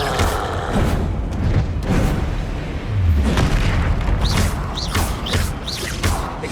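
Confringo blasting spells exploding in Hogwarts Legacy, several booming fiery blasts in a busy magical duel, with bright whooshing spell sounds later on.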